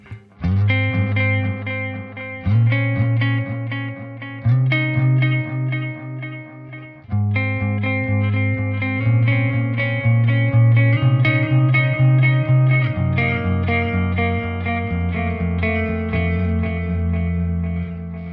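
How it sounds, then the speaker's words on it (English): Electric guitar played through a Joyo Aquarius delay pedal set to tube echo mode, a loud, steady run of sustained chords and notes with warm repeating echoes trailing each phrase, alone with no voice. "next up we've got the tube echo"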